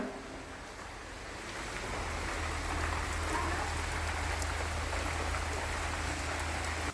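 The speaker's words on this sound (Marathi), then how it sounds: "पाऊस आल्यामुळं सगळा गोंधळ उडाला" Steady rain falls on a surface, a constant hissing patter that builds slightly after the first couple of seconds, with a low hum underneath.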